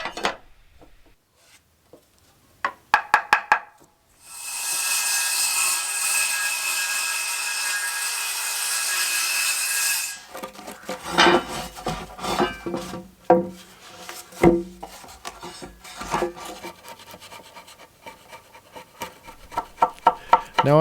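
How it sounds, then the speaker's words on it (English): Chisel work cleaning out notches in a wooden timber frame for a chicken coop feed storage build: scattered sharp taps at first, a long steady broadband hiss, then a dense run of knocks, scrapes and mallet-like strikes. "after cleaning the notched out areas up with the chisel"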